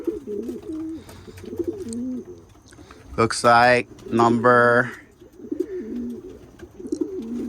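A banded pigeon in a dark loft repeats low, soft coos, then gives two louder drawn-out calls close by, with someone talking over part of it.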